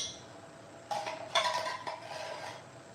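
A metal spoon scooping thick, solidified coconut cream from a container makes soft clinks and scrapes in a short cluster, close but quiet against a faint hiss, with no talking.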